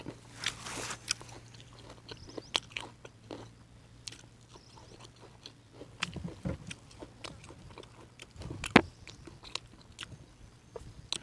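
Someone eating oranges, with close, irregular bites and wet chewing crunches repeating through the whole stretch and no talk over them.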